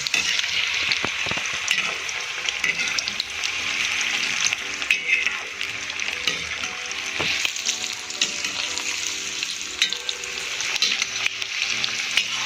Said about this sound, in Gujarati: થોડા આ રીતે પીસને આપણે ફ્રાય કરીશું તો આપણને ફ્રાય કરવામાં પણ ઇઝી રહેશે.